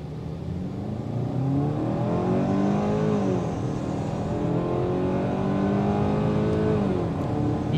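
A 2022 Hyundai Tucson accelerates from a red light, its engine note rising in a smooth climbing whir through the gears, steady and close, with no voices.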